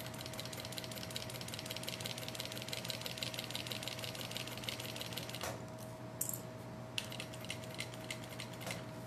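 A sewing machine stitching along the edge of a toiletry bag, a fast steady mechanical chatter running throughout with a couple of brief pauses and small clicks, fairly quiet and alone without talk.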